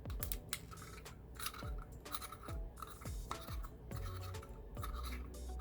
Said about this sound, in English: another thing I really like about this grinder is you can take the screen out